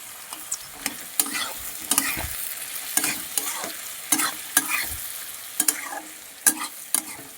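Potatoes fry with turmeric and red chilli powder for a vegetarian curry, as a spatula scrapes and knocks the pan in brisk, irregular strokes against a soft steady sizzle. It is close and without talk.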